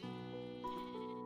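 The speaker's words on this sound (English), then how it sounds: "look how many sheep." A sheep bleats in a dinosaur survival video game, a near, wavering drawn-out cry with a second bleat following, fairly quiet and heard alone.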